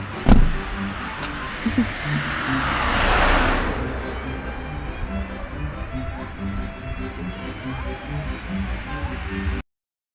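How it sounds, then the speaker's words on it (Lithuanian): A car passes outdoors in a mountain village, its broad whoosh swelling for a couple of seconds and then fading, after a sharp knock at the start, with quiet background sounds afterward. "Oi, mašina."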